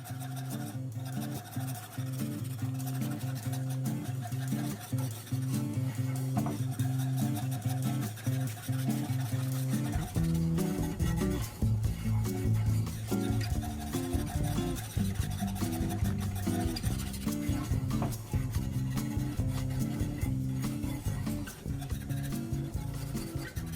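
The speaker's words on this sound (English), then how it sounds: "And I'm just going to continue to whisk." A whisk works through queso blanco cheese dip in a pot on the stove, producing a continuous close scraping and swishing rhythm over a steady background hum.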